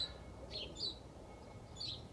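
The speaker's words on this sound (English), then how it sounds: "hearing the birds," Birds chirp outdoors during a sunny yoga session, a few short faint tweets coming from a distance over a soft steady background hush.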